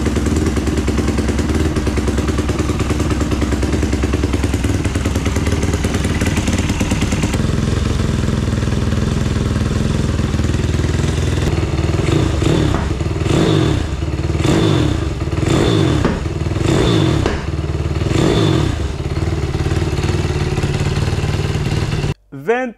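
A pit bike engine started on choke runs loudly and steadily, then revs in a series of rhythmic throttle blips, with a voice talking over the engine noise.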